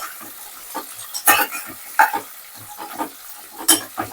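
Onion and green chilies frying in a pan are stirred with a spoon, giving a steady sizzle broken by irregular scraping strokes, close and fairly loud with no talk.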